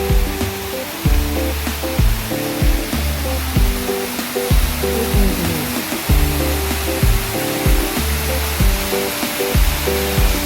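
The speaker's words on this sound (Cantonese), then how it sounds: "加埋呢度雙瀑布啊" A double waterfall on a mountain stream at Pak Mong in Hong Kong roars steadily with a dense, even rush of falling water, while rhythmic background music plays over it throughout.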